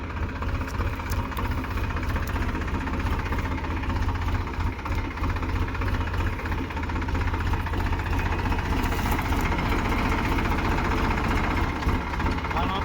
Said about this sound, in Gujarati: ભાઈ રિવર્સ ટ્રેક્ટર આવવા દઈએ